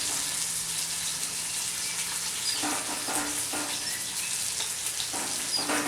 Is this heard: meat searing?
yes